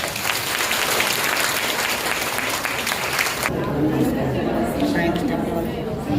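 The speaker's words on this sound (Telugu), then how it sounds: "ఫస్ట్ వాళ్ళందరి తరపున మనం ఒక్కసారి క్లాప్స్ చేస్తాం." An audience at an awards event bursts into loud, dense clapping for several seconds before it gives way to crowd chatter and murmuring voices.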